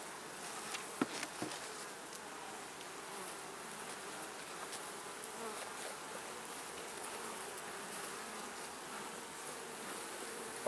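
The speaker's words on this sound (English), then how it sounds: "there's lots of bees up here now" A steady, close hum of many honey bees buzzing together, constant and droning, with a few brief knocks near the start.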